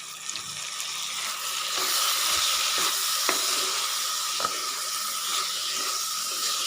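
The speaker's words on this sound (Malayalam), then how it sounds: "ഈ തക്കാളിയും ഉള്ളിയും വെണ്ടയ്ക്കയും പച്ചമുളകും ഒക്കെ ഒന്ന് നന്നായിട്ടൊന്ന് വെളിച്ചെണ്ണയ്ക്ക് ഇടുന്നിട്ട് ഒന്ന് വെന്ത് വരട്ടെ." Tomato, onion, okra and green chilli fry in hot coconut oil for a curry, a steady close sizzle and hiss with a few soft clicks from stirring, no voices over it.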